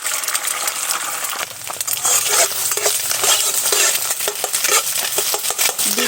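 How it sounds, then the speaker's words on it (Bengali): An egg fries and gets stirred in oil in a wok, giving a loud, continuous sizzle broken by repeated metallic scrapes and clinks of a spatula against the pan. "এবার আমি ডিমটাকে ভেজে নেব।"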